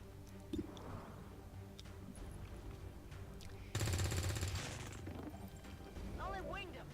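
Submachine gun fire in the turn-based strategy game Long War 2, one short burst of rapid shots rising above quieter game sounds partway through, with a voice talking across much of it.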